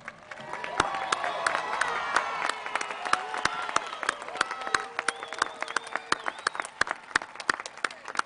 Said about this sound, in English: Please join me in another round of applause for tonight's graduates.